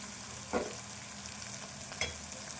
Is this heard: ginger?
yes